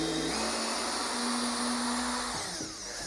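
A cordless drill set in reverse at speed 1 backs a small screw out of wood, giving a steady, loud motor whine that holds level, then dips and winds down near the end, with no voices.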